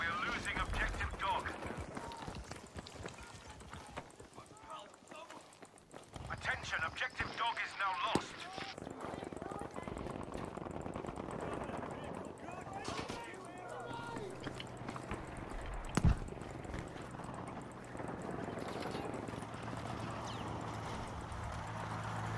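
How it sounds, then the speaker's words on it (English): Horse hooves clip-clop in a Battlefield V game on PS4, a steady run of hoofbeats running under continuous talk and game noise, with a few sharper impacts. "I have this random fucking horse that's following me."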